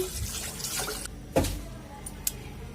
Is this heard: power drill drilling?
no